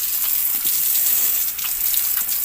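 Water runs steadily on a mountain farm, a continuous close hiss and gush with no pauses.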